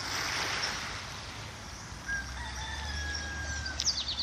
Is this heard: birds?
yes